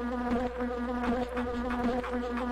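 Dense, pulsing buzz of a bee swarm in The Grinch (Dreamcast), loud and continuous with a wavering, rhythmic hum over faint game music.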